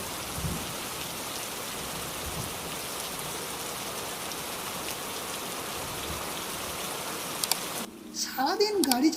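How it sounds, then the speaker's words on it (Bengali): Heavy rain falls steadily in a horror cartoon scene, a dense, even hiss of drops that runs for most of the time before cutting off abruptly as a voice takes over at the end. "শুরু হলো বৃষ্টি।"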